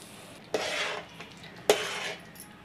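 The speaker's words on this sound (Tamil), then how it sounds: "நம்ம நல்லா கிண்டி விட்டுட்டே இருங்க" Wheat rava being stirred in a pan gives two distinct scraping strokes of a spoon against the metal, quiet and close, with soft sizzling between them.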